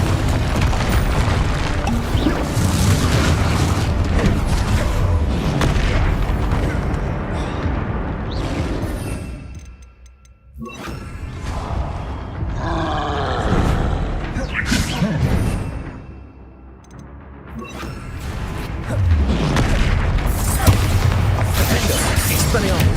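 Heavy booming blasts from Confringo spells in Hogwarts Legacy, loud and repeated, rumbling through most of the stretch with a couple of quieter dips, while a voice shouts spell names over the noise.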